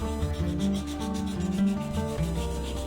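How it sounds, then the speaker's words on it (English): Steady sanding of a glued cardboard surface coated with dried latex primer, a continuous close scratchy rubbing with repeated back-and-forth strokes, heard alone. "I sanded the glued surface and added a latex primer over it. Once that dried, I sanded it smooth."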